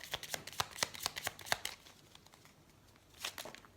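Tarot cards are handled, giving a quick run of crisp flicks and papery snaps, a quiet pause, then a short second burst of card rustling close by.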